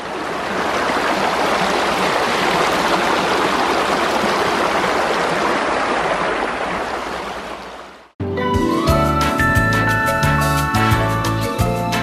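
A river stream flowing through a forest, a dense steady rush of water close by for about eight seconds before it cuts off abruptly and gives way to a different tonal sound.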